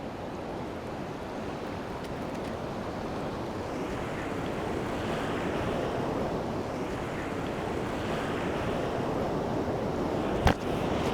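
Ocean waves breaking on a beach roll in as a steady, dense wash of surf with wind, loud and continuous throughout, with no voices over it.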